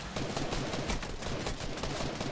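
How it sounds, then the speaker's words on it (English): Rapid gunfire in the Fortnite battle royale game, with dense, continuous bursts of shots filling the whole stretch at steady loudness, no voices over it. "He's shooting a rocket, then shooting my wall down."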